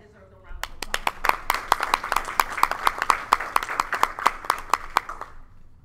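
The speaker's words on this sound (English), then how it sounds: "I think that deserves a round of applause" A small audience at a county school board meeting claps for about five seconds, a brisk run of sharp handclaps close to the microphone that tapers off at the end.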